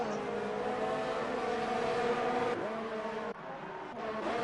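A race car in an online sim racing series at Japan roars along under slipstream and DRS, its engine a loud steady drone with a brief dip and shift as another car swoops past.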